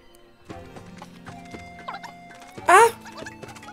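Horse hooves clip-clopping as a horse is ridden in the game Miitopia, a light rhythmic patter of steps under faint game music, with a short loud squeal near the end.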